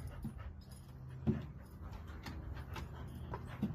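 Dogs playing tetherball, with whimpers, panting and scuffling in the foreground and a couple of sharp yips, steady and fairly quiet, with no talking.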